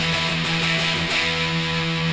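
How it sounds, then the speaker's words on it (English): Electric guitar played through a fuzz pedal, a thick, saturated wall of distortion with long sustain, holding a steady loud chord for about two seconds with no voices. "And then we got the fuzz pedal, which kind of gives you that thick wall of distortion"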